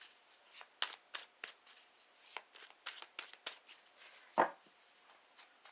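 Tarot cards shuffled by hand in a quiet room, a string of soft, crisp riffles and slaps close to the listener, irregularly spaced with one sharper knock near the end.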